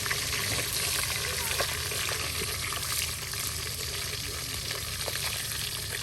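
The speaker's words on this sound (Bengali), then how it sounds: "আর এখন মাছগুলো ভেজে নেওয়া হচ্ছে।" Pona fish frying in a pan at a riverside cooking spot, giving a steady, dense sizzle with small crackles and spatters throughout, fairly close and continuous.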